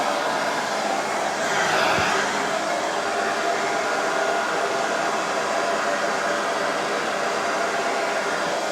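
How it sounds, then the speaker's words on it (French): A hair dryer blows steadily and loudly at close range for the whole stretch, a constant airy roar. "Vous mettez votre sèche-cheveux chaud,"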